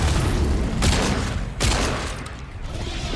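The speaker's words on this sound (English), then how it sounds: "keep shooting at the boss" Gunfire in the video game Fortnite as players shoot at a boss, a few loud bursts of rapid shots and booms over a dense, continuous game soundscape.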